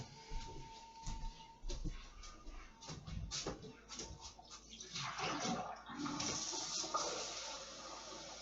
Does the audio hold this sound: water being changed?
yes